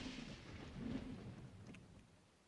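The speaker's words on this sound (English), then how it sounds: "Praying for the rain to stop," In the Dawn of Man game world, rain hisses steadily while a deep thunder roll swells and then fades away. The storm sounds distant, with no talking.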